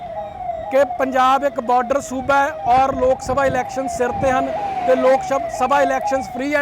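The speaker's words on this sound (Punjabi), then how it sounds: "ਤੁਸੀਂ ਸਾਇਰਨ ਸੁਣ ਸਕਦੇ ਹੋ" A police siren during a flag march on the streets of Nawanshahr, Punjab, wails steadily in a cycling, rising and falling tone under a man's continuous nearby speech.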